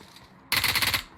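A short, sharp burst of rapid gunfire in PUBG Mobile, about half a second of automatic shots, breaks out over quiet background.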